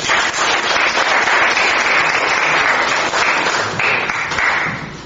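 A group applauds in a Spanish-language confirmation class, sustained clapping at a steady level that tapers slightly at the end.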